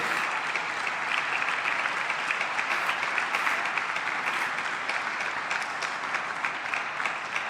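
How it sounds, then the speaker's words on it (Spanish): Sustained applause from a large church congregation, steady and dense clapping filling the whole stretch with no pauses. "dale un aplauso grande a este Dios"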